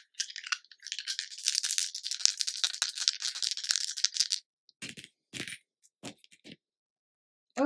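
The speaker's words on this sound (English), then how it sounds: "we're rolling 3 dice for you today" Three dice shaken and rolled, a dense clattering rattle lasting several seconds, followed by a few separate sharp clicks as they settle, close and alone with no voices.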